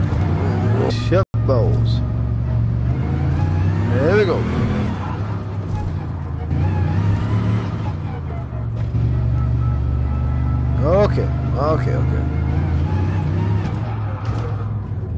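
A rally car engine drones and surges through a fast ride, rising in pitch several times as it accelerates, loud and close, while people talk and exclaim over it.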